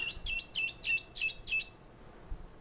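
A baby chick being treated for pasty butt gives a run of about five sharp, high chirps in a regular rhythm, close and clear over a quiet background.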